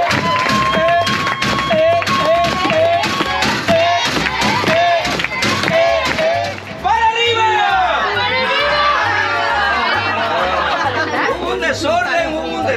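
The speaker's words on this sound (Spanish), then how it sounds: "Vamos a darle un fuerte aplauso a nuestro patrón." Crowd of tourists on a trajinera boat at Xochimilco, Xcaret, clapping for their boatman, a dense burst of applause and cheering mixed with loud chatter and a speaking voice.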